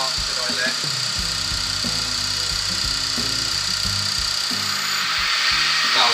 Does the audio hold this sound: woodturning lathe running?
yes